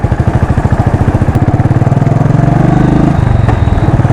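A 2016 Royal Enfield Classic 500 Desert Storm single-cylinder motorcycle running close by, with a loud, steady, evenly pulsing thump that quickens slightly as revs rise before settling back, and no voices.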